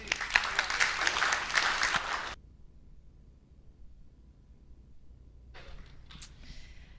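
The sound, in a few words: conference audience applause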